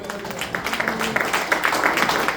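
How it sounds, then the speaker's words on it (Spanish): A church congregation claps steadily and loudly, a dense wash of many hands applauding together without pause. "Denle un fuerte aplauso, hermano."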